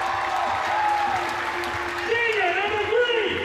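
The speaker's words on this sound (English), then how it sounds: "the Naugatuck crowd cheering loud for their Greyhounds" A basketball crowd cheers for the Naugatuck Greyhounds at a tournament final, with loud, continuous applause and cheering under an announcer reading player introductions over the PA.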